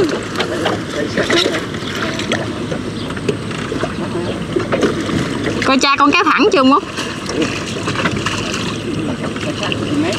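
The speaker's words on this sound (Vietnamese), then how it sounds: "ghe sông lớn mà ghe tàu chạy sóng dữ lắm" Boats run along a wide river during the flood season, engine drone and wind buffeting the microphone while water splashes and slaps nearby; people talk over the noise throughout.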